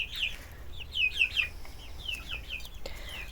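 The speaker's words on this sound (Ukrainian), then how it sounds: "Ось це з породніх курей, біліфельдери." Several Bielefelder chickens, a pure breed, cluck and chatter in short, quick bursts nearby, a busy flock sound against quiet background.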